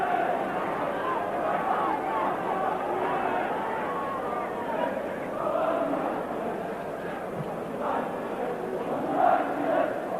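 A football crowd at a 1985 FA Cup match between Liverpool and Tottenham Hotspur roars steadily in a broad, distant wash, rising in occasional swells while a commentator talks over it.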